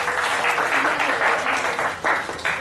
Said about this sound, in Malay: bagi tepuk tangan untuk kawan kita betul